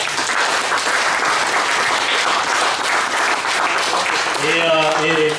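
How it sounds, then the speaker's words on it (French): Sustained, loud crowd applause fills an outdoor village festival gathering, steady throughout, with a voice and some tonal sound emerging over the clapping near the end. "on peut applaudir tous les intervenants et les intervenantes."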